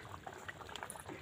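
A pot of chicken curry with potatoes bubbles on the stove, faint soft pops and gurgles rising in quick irregular succession with no talk.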